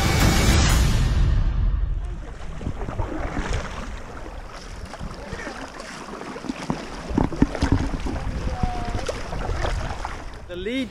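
Kayaks out at sea off the east coast of Scotland, with wind buffeting and water sloshing around paddles and hulls, a rough, continuous wash with occasional splashes, while someone talks over it.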